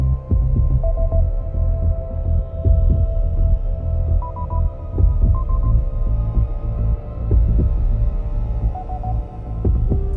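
A slow, heavy heartbeat throbs in repeated low thumps over a dark humming drone with faint sonar-like pings, a suspense sound effect for a psychological horror story, steady and close with no voices.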